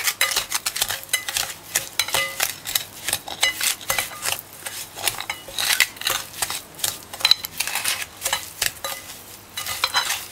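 A spoon scrapes and clinks repeatedly against a bowl as butter is worked apart for banana bread, in quick irregular bursts of close, sharp scraping.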